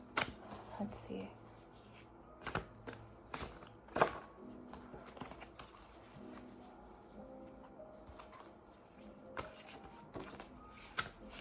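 A deck of cards is shuffled, giving soft irregular riffles and taps, quiet and close, mixed in with some light handling noise.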